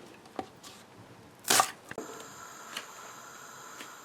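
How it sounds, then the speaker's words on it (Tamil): A knife chops onions on a cutting board for a milk shark fish fry, a few sparse, sharp cuts with one louder burst of chopping amid quiet room tone. "இந்த வெங்காயத்தை வெட்டி எடுக்கிறேன் வதக்கிறதுக்கு"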